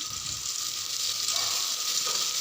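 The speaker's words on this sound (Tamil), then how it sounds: "ஒரு 2லேருந்து 3 தக்காளி கட் பண்ணி அதையும் போட்டு நல்லா ஃப்ரை பண்ணுங்கள்" Chopped tomatoes fry in a pan for Kongunattu-style arisi paruppu sadham, a steady close hiss of sizzling that holds without a break and without any voices.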